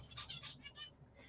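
Pet birds chirp faintly inside a room, a few short, bright tweeting bursts that come and go softly.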